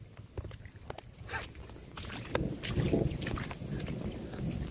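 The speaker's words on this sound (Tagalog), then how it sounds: "Pero malakas pa yung hangin." Strong wind from Typhoon Aghon rumbles in low, uneven gusts that build toward the end, broken by scattered sharp clicks and knocks nearby, with no voices.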